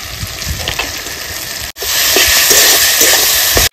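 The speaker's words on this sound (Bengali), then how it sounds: "সবকিছু দিয়ে আমি মশলাটা সুন্দর করে কষিয়ে নেব" Spice masala for a village-style mutton curry being stir-fried with salt and turmeric, a loud continuous sizzle with scraping stirs, briefly cut by a pause and then resuming strongly.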